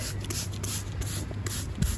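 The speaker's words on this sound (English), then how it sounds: "So I'm gonna spray under these leaves." A hand sprayer misting the underside of garden plant leaves against aphids: a steady close hiss of spray lasting about two seconds, with a faint rustle of foliage at the end and no talking.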